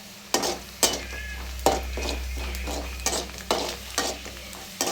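Onions and tomato sauté in a pan, with a constant sizzle and a low hum behind it, punctuated by regular sharp scraping strokes of a spoon against the metal, close by and without talk.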